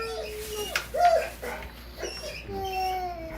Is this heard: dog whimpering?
yes